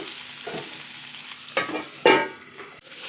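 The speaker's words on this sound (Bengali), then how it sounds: "আর গোটা কয়েকটা কাঁচা লঙ্কা দিয়ে আবার ভালোভাবে নেড়ে চেড়ে ঢাকা দিয়ে দেব" Drumstick curry with tomato and green chillies is stirred while frying in a pan, with a soft sizzle under a few distinct scraping strokes of the spoon that grow louder toward the end, and no voices.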